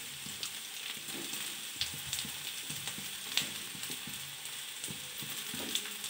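Soybean chunks fry in a pan, giving a steady close sizzle punctuated by scattered scraping knocks from stirring, with no talk.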